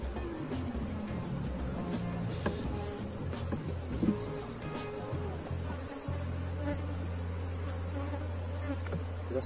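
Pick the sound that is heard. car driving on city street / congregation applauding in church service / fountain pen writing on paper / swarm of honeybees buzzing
swarm of honeybees buzzing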